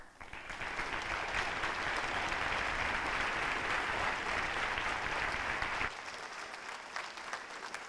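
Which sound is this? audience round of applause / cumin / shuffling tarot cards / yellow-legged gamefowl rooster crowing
audience round of applause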